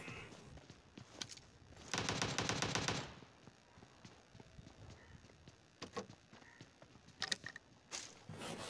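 Video-game gunfire in BGMI: a long sustained automatic burst at mid-clip, with scattered single shots and short bursts before and after, some near and some distant.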